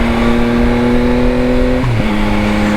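A 2024 Yamaha XSR900 motorcycle engine idles loud and close with a steady hum, then blips briefly to a short rev before settling back to idle.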